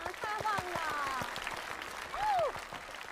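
An audience claps in a steady patter of many hands at a traditional opera performance on an old stage, while voices talk and sing over the applause.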